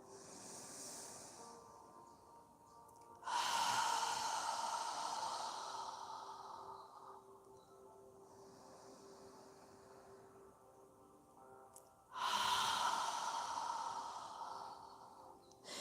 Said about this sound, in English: When you're ready to inhale, inhale. When you're ready to exhale,